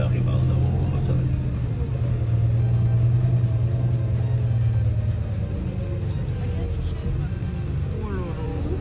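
Car engines rumble steadily and close by on a climbing road toward a headland, a continuous motor drone with a faint passing swell near the end.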